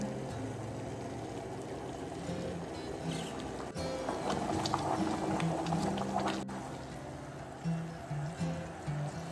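Sugar syrup for boondi laddu boils in a pot, bubbling and gurgling faintly and steadily, with some stirring and clinks, and low muffled sounds in the background.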